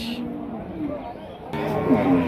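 Low, drawn-out cow moos sound close by at a cattle market in Rajshahi, two calls with a rougher, louder one near the end, over faint background chatter.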